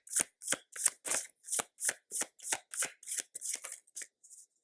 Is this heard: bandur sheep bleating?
no